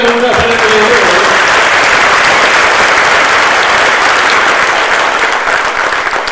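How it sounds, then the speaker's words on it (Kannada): Loud, dense audience applause at a public gathering where a local legislator speaks, sustained evenly for about six seconds from a close crowd. "ಒಂದು ಅವರಿಗೆ ಒಂದು ದೊಡ್ಡ ಚಪ್ಪಾಳೆ"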